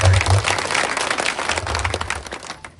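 A gathering of villagers, youth and local officials at a village program in Telangana breaks into applause, a dense wash of clapping with a low hum and faint voices underneath, fading near the end.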